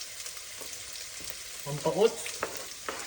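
Garlic and onion fry in a pan with a steady soft sizzle, a few stirring scrapes and a short spoken word over the cooking.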